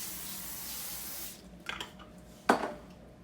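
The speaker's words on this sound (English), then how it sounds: "I'm gonna go ahead and spray that just to make sure it doesn't stick." Cooking spray hisses onto a foil-lined cookie sheet in two short bursts, the second sharper and louder, in a quiet kitchen.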